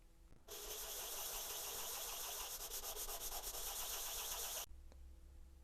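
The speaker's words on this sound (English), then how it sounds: "this is about 2 minutes of sanding" Steady, loud sanding on a body panel of a 1971 Buick GSX, a continuous abrasive rasp running for about four seconds before stopping abruptly, with no talking.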